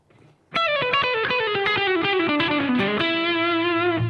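A fast distorted electric guitar lick, notes tumbling quickly in a rapid run, loud and close with effects on the tone.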